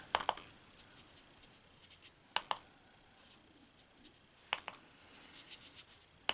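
Soft, scattered scratches of a coloring tool on paper lilac flower shapes being tinted purple, faint and close, with a few sharper taps in quiet between strokes.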